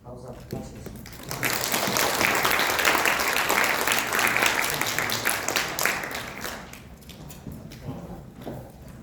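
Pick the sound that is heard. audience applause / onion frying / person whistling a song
audience applause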